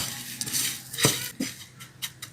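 Maida flour and a little cornflour being mixed in a bowl for fried chicken coating, with close scraping and clinking of a spoon against the bowl and a few sharper knocks.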